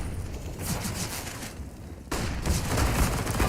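Rapid automatic MP9 submachine gun bursts in Counter-Strike on the Dust2 map, two quick flurries of crackling shots separated by a short pause, fairly close and without talking.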